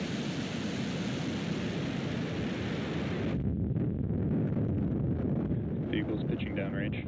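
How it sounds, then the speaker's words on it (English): Falcon 9 rocket liftoff at launch: a loud, continuous broadband roar with deep rumble that stays strong throughout, a crowd or commentator voice faintly under it near the end. "And liftoff of Falcon 9."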